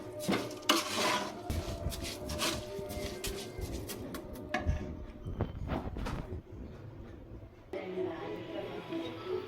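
Washed rice is stirred in a cooking pot for coconut rice, with irregular clanks and scrapes of a spoon against metal, close and fairly loud, and a voice speaking at times.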